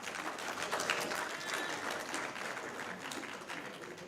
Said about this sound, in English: Can we clap until she sits?